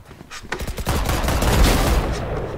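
Rapid gunfire from the video game Valorant, a dense burst of sharp repeated shots that runs for a couple of seconds at close range.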